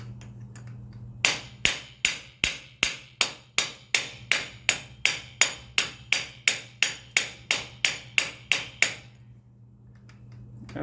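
A hammer taps a part in to seat the Woodruff key in the clutch of a Grubee Platinum Fire bike engine. About twenty sharp, evenly spaced metallic knocks sound close and loud over a low hum, then stop, leaving quiet.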